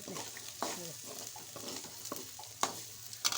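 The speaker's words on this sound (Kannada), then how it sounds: "ಈಗ ಎಣ್ಣೆಗೆ ಹಿಂಗೆ ಕುದಿಬೇಕು ರೀ ಸ್ವಲ್ಪ ಹೊತ್ತು ಘಮ ಘಮ ಅನ್ನಂಗೆ ಆಮೇಲೆ ಏನು ಮಾಡಬೇಕು ಇದನ್ನು ಹಿಂಗೆ ಕಲಿಸ್ಬೇಕು ರೀ" Garlic sizzles and fries in oil in a pan while being stirred, with a soft continuous crackle and scraping stir strokes plus a few clinks, fairly quiet and close.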